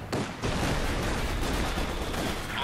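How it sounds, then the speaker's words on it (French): Battlefield gunfire and mortar fire in the WWII strategy game Company of Heroes 2, a dense, continuous crackle of shots and blasts with no pauses. "on a un mortier qui tire dessus"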